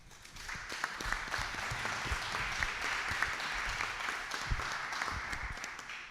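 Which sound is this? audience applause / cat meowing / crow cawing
audience applause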